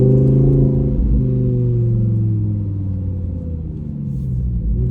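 A Lamborghini supercar engine revs loudly and close, a deep harmonic roar that holds steady then dips slightly and swells again as the car pulls away during a ride.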